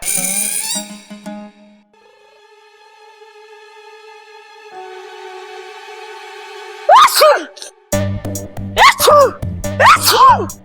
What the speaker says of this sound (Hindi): अभी थोड़ी देर पहले तो तू ठीक ठाक था, अब छींकता ही जा रहा है